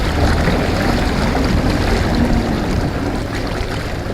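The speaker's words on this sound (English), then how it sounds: "The sound of the open water and fishing lines cast" Open water around a fishing boat, with a steady broadband wash of wind and waves that runs loud and unbroken throughout. No distinct line casts stand out.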